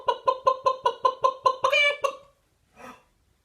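A voice imitates a chicken with a quick run of rhythmic clucks rising into a squawk, followed by a short softer cluck.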